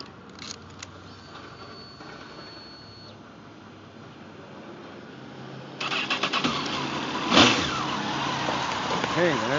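A 2002 Honda CBR 954RR sport motorcycle with its original exhaust cranks and fires up about halfway through, settling into a steady close idle with a brief rise, after quiet background noise and a few faint clicks.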